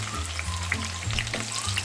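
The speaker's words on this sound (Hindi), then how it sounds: "अच्छी तरह प्याज भुन जाए" Onions frying in oil in a pan for a lamb charangli dish, a steady close sizzle with faint stirring scrapes and no talk.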